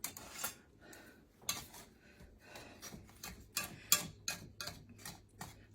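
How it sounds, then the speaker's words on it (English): Muffin batter for giant chocolate chip muffins is stirred in a bowl with a Danish whisk, producing rapid rhythmic scraping and tapping strokes, close and fairly quiet, with no talking. "whisk, and this is a Danish whisk."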